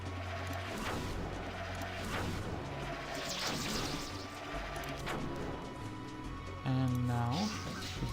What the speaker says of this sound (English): do another turn of shooting